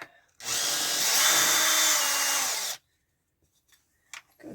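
A power drill drives a 32mm screw in an underground bunker, a single loud close whine lasting about two seconds that slows slightly before stopping, followed by faint clicks and handling sounds.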